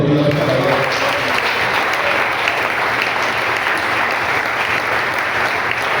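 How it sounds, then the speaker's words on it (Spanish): A church congregation breaks into loud, dense applause after a sermon line, a continuous roar of many clapping hands close and strong throughout, with no talk over it. "Alguien le da un aplauso a Dios."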